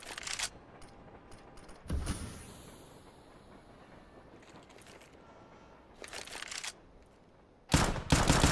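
Gunfire in a competitive Counter-Strike match comes in short sharp bursts at the start, around two seconds, near six seconds and loudly at the end, with quieter game ambience between.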